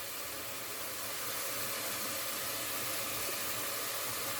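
Food simmers in a cooking pot during Ramadan meal preparation, a steady broadband hiss and bubbling that holds close and even throughout with no voices.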